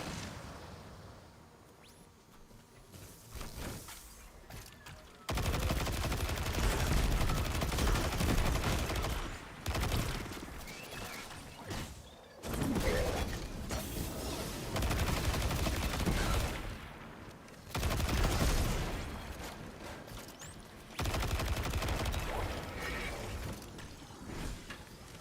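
Gunfire in Destiny 2, heavy rapid bursts of shots in several long volleys separated by brief pauses, loud and close with sharp shattering impacts and no talk.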